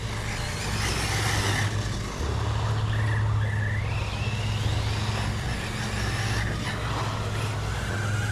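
An Arrma Typhon TLR Tuned RC buggy runs over loose gravel, its electric motor whining and rising in pitch as it corners, with steady crunching, rumbling ground noise close by.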